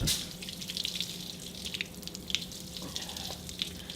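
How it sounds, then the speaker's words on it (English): Water squeezes out of wet paper pulp under a turning hand press, a soft, steady trickling and dripping with light splashy patters over a low background hum. "The turning of the press exerts pressure that squeezes out more water from the pulp."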